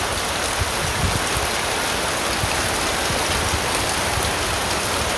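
Heavy rain pours down without a break, a loud, dense, unbroken hiss of water hitting surfaces close by, with no voices.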